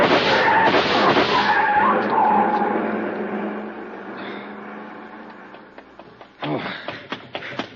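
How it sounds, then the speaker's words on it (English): Radio drama sound effect of a car speeding away: a loud engine roar and tire skid that fades into the distance, followed by several sharp bangs. "See the car, the one that just gunned out."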